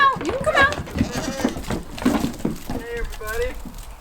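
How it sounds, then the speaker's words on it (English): Goats bleat repeatedly as they are let out of their pen into a garden, several wavering cries close by, mixed with people talking and rustling movement. "we're gonna let the goats out for the first time"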